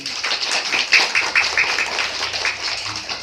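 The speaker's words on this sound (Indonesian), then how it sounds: "Untuk anak-anak yang pintar, tepuk tangan" A class of primary school pupils claps together for their clever classmates, a burst of fairly even, brisk claps that runs on steadily in a room.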